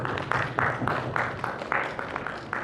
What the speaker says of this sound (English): Let's give them a round of applause for bringing us all together.